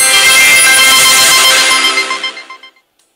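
A phone ringtone or notification chime plays alone for about three seconds, a bright tonal melody that fades out to silence, heard during a Farming Simulator 16 gaming session.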